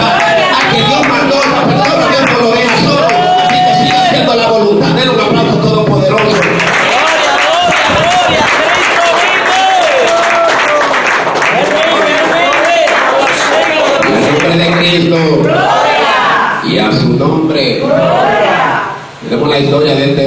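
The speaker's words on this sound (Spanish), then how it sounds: "Un aplauso todopoderoso." A church congregation applauds loudly and steadily for the whole stretch, a dense wash of clapping hands mixed with cheering and crowd voices, swelling in the middle and easing slightly near the end.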